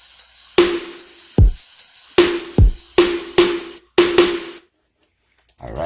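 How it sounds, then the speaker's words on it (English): REX loop slices play back as a chopped drum-like sequence of sharp hits with low thumps, stopping abruptly near the end and followed by a changed ending with brief quieter blips. "Now when we play the loop,"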